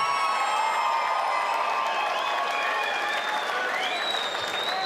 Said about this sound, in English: let's hear another big round of applause for both of these fighters.